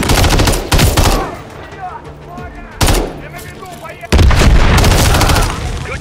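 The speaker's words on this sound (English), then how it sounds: "There's enemy fire!" Gunfire in Call of Duty: Modern Warfare 3 (2023) rattles in loud bursts, with sharp volleys at the start, a burst near the middle and a sustained heavy stretch at the end, close and dominant.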